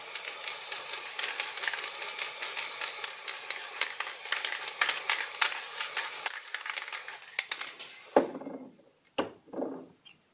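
An aerosol can sprays blue paint in a long, steady, close hiss that breaks into short sputtering bursts near the end, with no talking.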